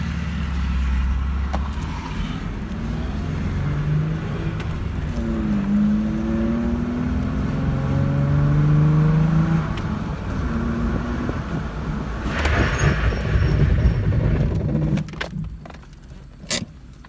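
A stock Toyota 4Runner with a modified exhaust revs up and settles several times at close range, a low engine drone rising and falling in pitch, followed by a few clanks and mechanical knocks near the end, with no talk.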